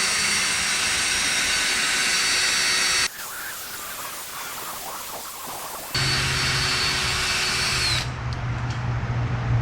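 Power drill spinning a gold sanding disc against a car headlight lens, a loud whining drone that drops off briefly in the middle, then returns and ends with a shift in tone, no talking.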